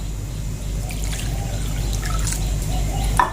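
Warm water trickles and pours in a thin, steady stream for bread dough, close by and continuous, over a low background hum, ending with a small splash.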